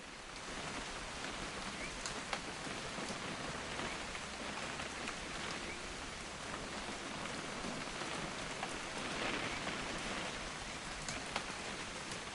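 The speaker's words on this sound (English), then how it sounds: "It's gonna rain the whole weekend, isn't it?" Rain in the video game What Remains of Edith Finch, a steady soft patter of drops hitting surfaces with scattered sharper taps, faint and continuous with no voices.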